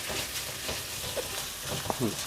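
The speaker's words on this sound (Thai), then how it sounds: "พยายามอย่าใช้ไฟแรงมากเพราะว่าถ้าใช้ไฟแรงมากเดี๋ยว ตัว เบคอนนะครับ มันจะไหม้ซะก่อนนะครับ แล้วค่อยๆเกี่ยวนะครับ" Bacon frying gently in a pan over moderate heat, a soft steady sizzle with occasional light scrapes and knocks as the strips are stirred, close and continuous.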